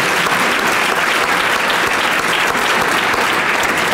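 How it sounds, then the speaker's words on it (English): Loud, sustained applause from a large audience at a mayor's State of the City address, dense clapping that stays even and close throughout. "let's give them a big round of applause"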